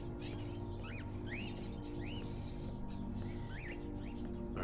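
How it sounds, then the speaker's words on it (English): Caged crows call inside an old house in the game Fahrenheit: Indigo Prophecy, giving short rising chirps at intervals over a steady low ambient hum. "Are those crows in the cages?"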